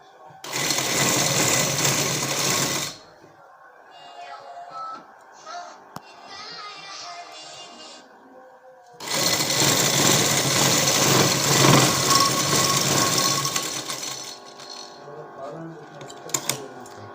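Sewing machine stitching piping onto a trouser hem, two long steady runs separated by a quieter stretch with faint talk.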